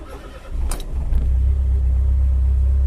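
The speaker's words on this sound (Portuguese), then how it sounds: "Tá aí, motor em funcionamento." A Fiat Palio G1 engine catches and settles into a steady, loud idle, with a low continuous rumble after a brief click at the start.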